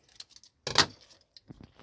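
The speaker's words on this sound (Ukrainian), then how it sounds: "Отже, зараз ми розпакуємо нашу пасту." A packet of fertilizer paste is torn open and handled, producing crisp plastic crinkling and rustling in short bursts with one louder crackle near the middle, close up in a quiet room.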